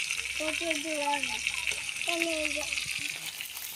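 Potatoes fry in hot oil with a steady, bright sizzling hiss that runs throughout, while a person talks over it close by.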